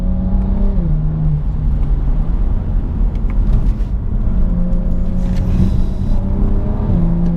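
A 2018 Alpina B4 S drives uphill from the cabin, its engine droning in a steady low tone that shifts pitch with gear changes, accompanied by road and tyre rumble throughout.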